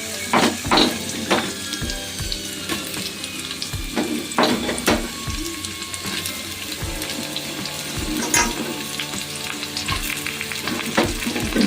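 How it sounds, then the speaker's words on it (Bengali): Beans, carrots and capsicum sizzle steadily in a pan for fried rice, with periodic scraping and stirring strokes over a continuous crackle, close and moderately loud with no voices. "বিনস, গাজর, ক্যাপসিকাম সব আমি একসঙ্গে দিয়ে দিচ্ছি। এগুলোকেও একটু ভেজে নেব।"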